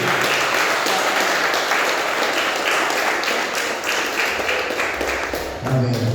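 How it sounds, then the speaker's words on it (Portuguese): Church congregation at a celebration service giving a round of applause, a loud, close, continuous wash of many hands clapping that holds steady before a voice breaks in at the very end. "Você pode dar uma salva de palmas."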